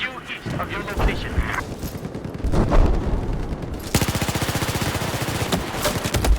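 Rapid gunfire in the video game Battlefield 4, infantry combat with an assault-class FAMAS rifle, sharp bursts building into a steady fast automatic rattle with booming impacts, loud and close.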